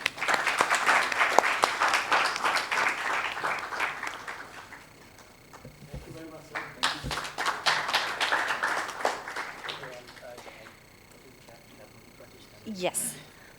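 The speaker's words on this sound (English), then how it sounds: "Let's give it a huge round of applause." Round of applause from a conference audience at the inaugural session of a maritime technology event, dense clapping for several seconds that thins, swells again, then tapers off, with a voice speaking over parts of it.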